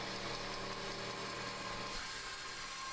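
A bandsaw with a large blade cuts through wood for a garden basket, giving a steady, loud, continuous whine and hum with no pauses.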